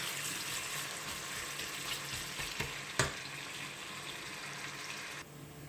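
Onions frying to light brown in a pan, a faint steady sizzle with some stirring and a single sharp clink partway through.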